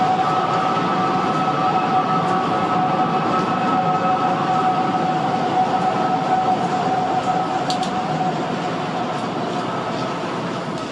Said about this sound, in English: the tower began whistling again with a slightly different two-toned cry